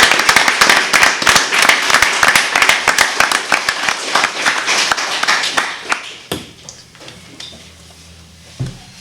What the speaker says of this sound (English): massive round of applause for that